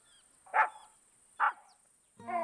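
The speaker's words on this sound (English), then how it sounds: "Snuffy ran up to a tree and began to bark." A cartoon dog barking at a tree in a forest gives two sharp, close barks about a second apart, followed by a brief whine-like yip at the end.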